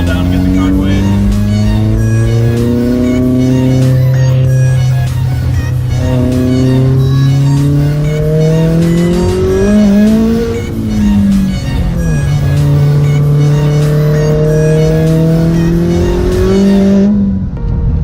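A big-turbo Volkswagen Jetta pulls hard onto a highway, heard from inside the car: the engine note climbs loudly, drops at gear shifts, and climbs again several times in close succession.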